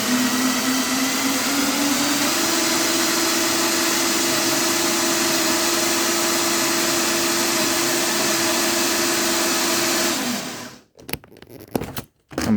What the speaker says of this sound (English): The V10 engine is doing great.